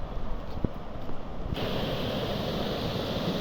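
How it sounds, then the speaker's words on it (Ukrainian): Steady rushing water roars continuously over stone rapids on the Inhulets River, growing louder and fuller partway through, heard from close by, with some wind buffeting early on. "Так, шум води ближче."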